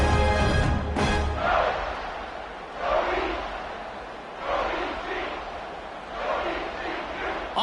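A home crowd roars at a football game in big stadium waves that swell and fade several times, heard from a distance, with a commentator talking over it.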